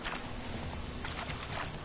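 Horse hooves clop on the ground in The Witcher 3 video game, a quiet, steady patter of hoofbeats lasting a couple of seconds with no talking.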